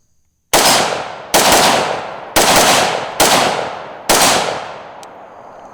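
A Bushmaster ACR rifle fires five loud, sharp shots at a slow, slightly uneven pace, each crack ringing out into a long echoing decay, close and alone without talk.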